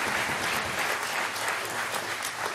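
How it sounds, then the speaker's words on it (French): A television studio audience applauds steadily, a dense, even clatter of many hands clapping throughout. "Alors on applaudit"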